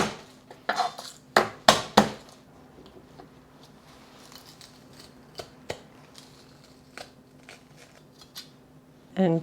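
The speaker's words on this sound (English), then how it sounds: "I have 2 cloves of garlic that I'm going to mince, or press actually." Two garlic cloves are pressed in a kitchen while making Hong Kong style crispy chow mein: a few sharp metallic clicks and squeezes up front, then quieter scattered taps.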